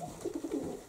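Soft, low cooing from a pigeon, a few quick throaty pulses close by in a quiet space.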